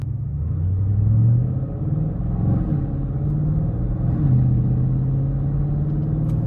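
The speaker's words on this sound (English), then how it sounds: "Now with the sport exhaust, you do get a more aggressive sound" A 2021 Audi RS6 Avant with a twin-turbo V8 and sport exhaust drives along, its deep, steady engine rumble swelling twice as it pulls, loud and close with no talking.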